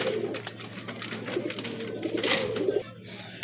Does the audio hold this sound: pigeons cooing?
yes